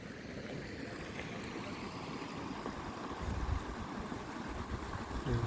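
Water rushing down a mountain road that has turned into a stream near Dodurga, heard as a steady broadband outdoor wash that grows slightly louder toward the end, with no talking.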